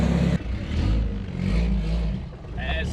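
A turbocharged car engine revs hard on a run up a lane, a close, throaty roar that rises and surges with some clatter, and a voice speaks briefly over it.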